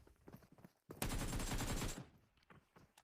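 Gunfire in PUBG Mobile: a loud burst of rapid automatic shots lasting about a second, surrounded by quieter game ambience and soft footsteps.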